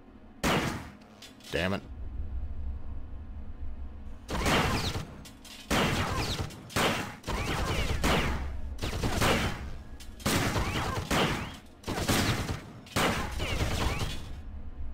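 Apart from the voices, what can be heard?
gunfire from a gun in the video game System Shock 2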